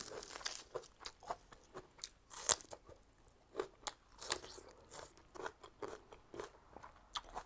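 Someone chews raw beef liver laab up close, with soft, repeated crunchy and wet bites coming in an irregular rhythm and no talking over them.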